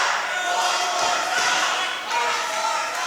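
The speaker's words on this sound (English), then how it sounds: "the crowd's hollering for one more" Crowd at a wrestling event hollering and cheering in a hall, a loud sustained roar of many voices with a thud partway through.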